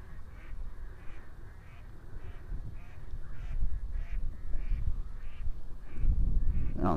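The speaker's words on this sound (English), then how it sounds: "I don't know if you can hear all the ducks." Ducks quack steadily in a repeated, agitated chorus, stirred up by a juvenile bald eagle landing in a nearby tree, with the calls carrying over a low outdoor rumble that swells toward the end.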